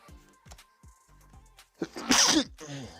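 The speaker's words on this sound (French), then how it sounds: "Un petit éternuement, là." A sudden burst of breathy, hissing noise, like a single sneeze, breaks out after a stretch of quiet handling and small knocks, fairly close and loud.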